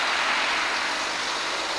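A truck passing along a narrow residential street makes a steady, broad rumble and road roar that holds at an even level throughout, with no talk.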